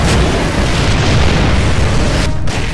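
A heavy weapon blast booms in Gears of War 3 gameplay, a loud deep explosion with a sustained rumbling roar that fills the whole moment and cuts off briefly near the end.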